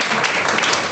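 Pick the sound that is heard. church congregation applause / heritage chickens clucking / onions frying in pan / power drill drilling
church congregation applause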